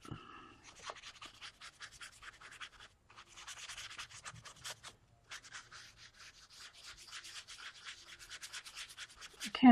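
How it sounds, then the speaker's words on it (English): A paintbrush is scrubbed back and forth to clean out paint, making faint, soft, rapid rubbing strokes in several bursts with short pauses, alone and close. "if you hear me going over here, I'm just cleaning that paint out of my brush so I can get more"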